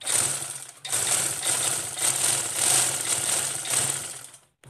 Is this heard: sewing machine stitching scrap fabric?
yes